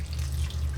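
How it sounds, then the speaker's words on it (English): Water runs from a tap into a big bowl of chopped sweet potato sticks, giving a brief, soft, steady splashing stream heard up close. "I'm just going to cover them with some water."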